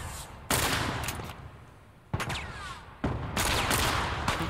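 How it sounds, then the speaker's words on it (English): Pistol shots in The Last of Us: several sharp, loud reports spaced a second or so apart, each trailing off into a ringing tail, with quieter rumbling gameplay between them. "This pistol is so bad."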